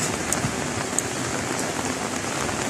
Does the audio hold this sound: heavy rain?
yes